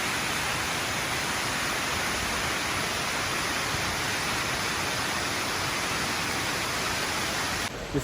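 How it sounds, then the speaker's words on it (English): Leura Falls in the Blue Mountains, Australia, roars as a steady broadband rush of falling water heard from a viewing platform, constant and full before cutting off abruptly at the end. "And the waterfall just down there."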